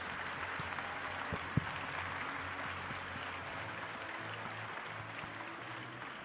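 A gala crowd at a masquerade fundraiser applauds its $25,000 donors, with steady, dense clapping held at an even level throughout and a single sharper clap standing out near the start.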